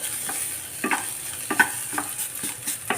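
Cluster bean and lentil usili being stir-fried in a pan, with a steady sizzle broken by repeated scraping stirs of a spatula at an uneven rhythm, close and moderately loud, with no talk.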